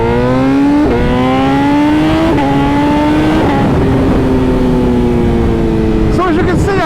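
BMW M 1000 RR motorcycle engine under way on a ride, a loud, steady droning note that climbs in pitch and drops at each of several gear changes, with rushing wind noise throughout.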